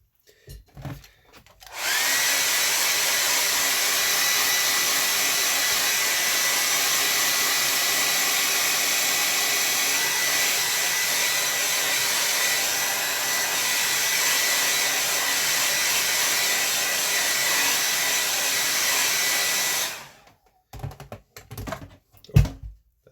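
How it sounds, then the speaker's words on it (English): A blow dryer switches on and roars steadily for about eighteen seconds, then cuts off, followed by a few light knocks and handling noises. "My blow dryer dropping."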